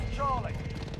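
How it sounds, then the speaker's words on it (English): A helicopter hovers overhead in a Call of Duty Domination match, a brief low rotor thrum mixed with game effects and a voice talking over it. "Chopper in the air."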